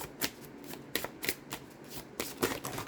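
A short burst of tarot card shuffling, a handful of quick papery slaps and riffles heard up close with no talking.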